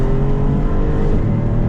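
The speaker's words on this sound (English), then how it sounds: "they do such a phenomenal job of making sure you can hear engine and exhaust note in the cabin with the window up" Maserati MC20 Cielo convertible engine and exhaust note heard from inside the cabin while driving, a loud, steady, droning roar with a continuous low hum and no breaks.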